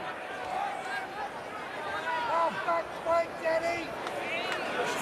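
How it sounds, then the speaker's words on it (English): Steady roar of a football crowd at a SANFL match between Glenelg and WWT Eagles, a broad continuous wash of noise with voices swelling and rising in brief surges throughout. "Crowd in, making plenty of noise"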